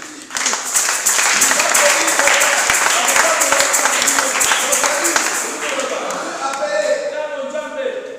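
A church congregation at a Sunday service applauds for Jesus with sustained, dense clapping and cheering that fills the space, tapering slightly toward the end as a voice begins to speak over it.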